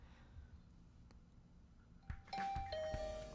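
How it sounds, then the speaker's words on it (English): A doorbell chimes near the end of a scene in Hundred Line: Last Defense Academy, a bright electronic ding-dong ringing out after a quiet stretch with faint ticking. "I woke up to the sound of my doorbell."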